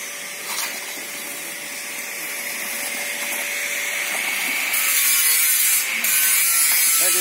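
A 68cc mini weeder engine runs with a high, buzzing whine whose level slowly climbs and stays strong near the end. No one speaks over it.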